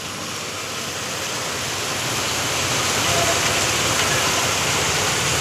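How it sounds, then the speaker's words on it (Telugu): Heavy rain drums steadily on a truck windshield, a dense, unbroken wash of close droplets that swells slightly louder toward the end, with no voices. "ఫుల్ కొడుతుంది వర్షం అయితే"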